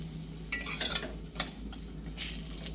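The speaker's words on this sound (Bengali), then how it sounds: "এটা হলো কুমড়ো ফুলের বড়া" Pumpkin flower fritters frying in a pan, a soft, steady sizzle with occasional scraping and stirring clinks from a utensil, fairly quiet and close, without speech.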